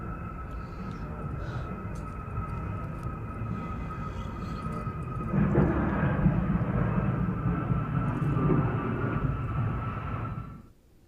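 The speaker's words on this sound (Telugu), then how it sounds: "నాసాకు చెందిన రీసెర్చ్ విమానం ల్యాండింగ్ గేర్ లేకుండానే భూమిని తాకింది." A NASA research airplane belly-lands without its landing gear, giving a steady broadband roar that swells louder midway and then cuts off abruptly, with no voices.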